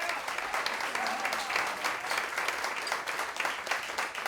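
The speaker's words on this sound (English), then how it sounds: "Please give a round of applause for my trio behind me." An audience at a cabaret stage show applauds a drummer introduced with the trio. The clapping is dense and steady and carries on for several seconds at moderate loudness.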